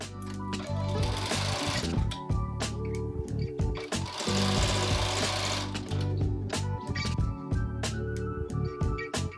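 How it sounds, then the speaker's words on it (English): A sewing machine stitches a closure onto a wig, running with a loud, steady mechanical whirr and rapid needle chatter at close range, pausing and restarting in bursts with no talking. "So now I'm gonna stitch on the closure with the machine."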